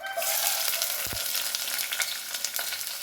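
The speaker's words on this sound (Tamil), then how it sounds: "நான் பாத்திரத்தில் எண்ணெய் விட்டுருக்கேன் கொஞ்சம் சோம்பு போட்டுக்கலாம் சோம்பு பொரியட்டும்" Fennel seeds sputter in hot oil in a pot, the start of a mushroom masala: a steady, close, bright crackling sizzle with a couple of soft knocks partway through.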